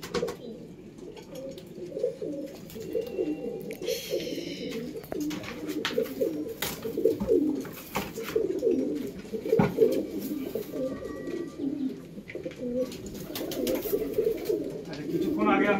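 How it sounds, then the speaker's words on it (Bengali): Home-kept breeding Kalanka pigeons coo almost continuously, a dense run of overlapping low, burbling calls close by, with occasional brief higher chirps and clicks mixed in. "এই এক জোড়া কালাঙ্কা পায়রা সব করাচ্ছি আপনাদের।"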